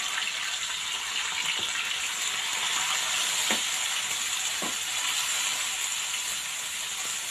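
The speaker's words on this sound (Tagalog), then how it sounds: "igigisa ko muna po itong kamatis at saka bawang" Tomato and garlic sizzle as they are sautéed in a frying pan, a steady loud hiss with a few faint stirring clicks, no talking.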